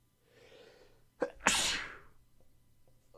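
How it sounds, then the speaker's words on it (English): A person sneezes once, loud and close, with a quick sharp inhale just before the forceful burst, then quiet breathing afterward. "I'm going to sneeze."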